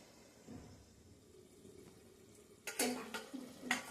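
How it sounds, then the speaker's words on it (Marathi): A lid goes onto a pot of simmering vegetables, bottle gourd and potato among them, for traditional bisi bele anna. A few sharp metallic clinks and clatters ring out close by after a quiet stretch of low kitchen noise. "यावर मी झाकण ठेवणार आहे."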